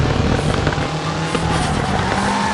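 A Nissan GTR R32 in the drifting game FR Legends slides with the e-brake pulled, its engine droning loudly under sustained tire squeal throughout.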